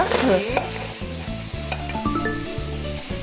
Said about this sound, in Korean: 밑간을 한 우둔육을 먼저 볶아주고요.